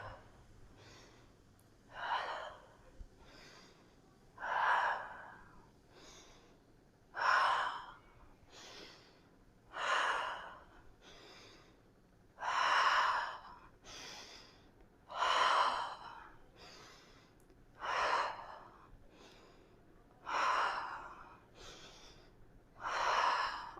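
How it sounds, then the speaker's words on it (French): A person breathes deeply in and out during a yoga session, close and slow, in a steady rhythm of roughly a dozen long, airy breath cycles. "On inspire et on expire."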